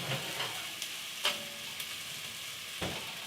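Tomatoes and garlic simmer and sizzle in a pot while a utensil scrapes and stirs through them, giving a few distinct scraping strokes over a soft, steady bubbling.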